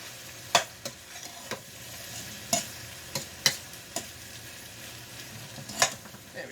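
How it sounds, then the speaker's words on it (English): Eggplant being stirred into hot oil in a pan for caponata, a handful of distinct scraping clacks of the spoon scattered over a soft, steady sizzle, fairly close and not loud. "give it a good stir to get the eggplant down by the oil"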